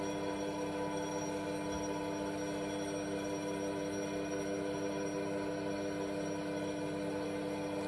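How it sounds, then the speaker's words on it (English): A faint, muffled electric bell rings continuously and steadily inside a bell jar as air is pumped out, sounding distant and thin against a low background hiss. "Our bell is ringing."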